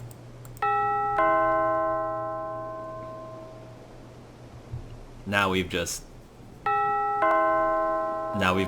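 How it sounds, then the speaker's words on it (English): An electronic two-tone doorbell in the video game The Last Time chimes, rings again, and after a brief spoken remark sounds once more, clear and close, with long ringing tones. "I tried the doorbell."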